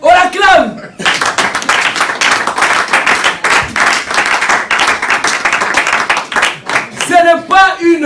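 Church congregation bursting into loud, sustained clapping and cheering for several seconds, with a preacher's voice heard briefly before and after.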